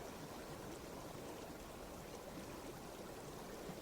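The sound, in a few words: flowing river stream water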